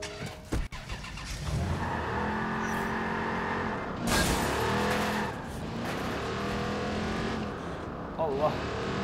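A car drives in the open-world game Watch Dogs 2, its engine droning steadily with occasional tire noise and surges, while someone talks over it throughout.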